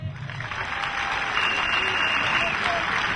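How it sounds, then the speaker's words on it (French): A crowd at a political rally in Koumassi applauds, a steady wash of clapping that builds and holds, with a voice faintly under it at the start. "Il faut applaudir ça."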